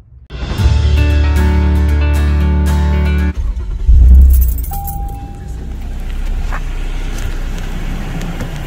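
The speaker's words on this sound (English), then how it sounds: "I was just getting ready to drive, sitting in the comfortable car and holding on to the steering, switching it on." Car keys jangle briefly before an engine starts and settles into a steady idle, loud and close inside the car, followed by quieter rumbling.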